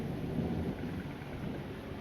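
Thunder from a small July thunderstorm over Red Deer, Alberta, heard as a steady low rumble under hissing rain for the whole short stretch.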